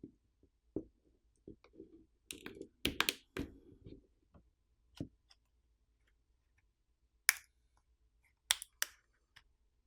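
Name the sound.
plastic pry tool popping off phone back housing catches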